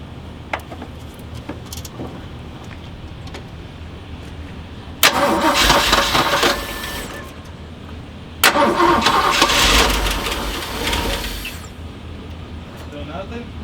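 A 1978 Jeep engine is cranked over in two loud bursts of several seconds each, a raspy whirring churn close by, with low background noise between attempts.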